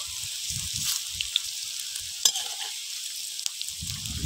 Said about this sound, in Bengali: লালচে লালচে করে উল্টে পাল্টে ভালো করে ভেজে নেব।